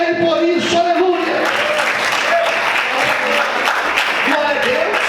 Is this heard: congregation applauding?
yes